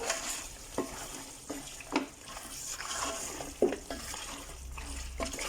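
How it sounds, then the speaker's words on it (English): Curry powder fries with green chili, tomato, garlic and ginger for goat curry, a soft continuous sizzle under repeated scraping stirs and light knocks of a spoon against the pan, fairly quiet. "I'm going to be dropping in my green chili, tomato, and garlic and ginger. Give this a stir."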